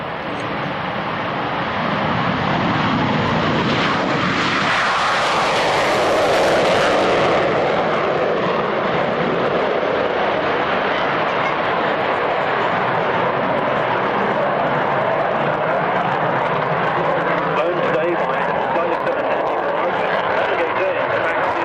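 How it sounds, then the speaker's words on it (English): A Tornado jet with two Turbo Union RB199 engines takes off on full afterburner at an airshow, a roar that swells, peaks with a harsh tearing blast, then settles into a sustained loud rumble. "The Tornado, probably one of the noisiest aircraft we have here today, will start his takeoff run from the left with full afterburner."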